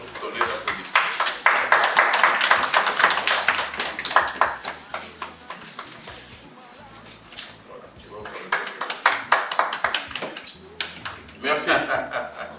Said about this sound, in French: Je vous remercie sous votre tonnerre d'applaudissements.